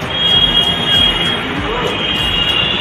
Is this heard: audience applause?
no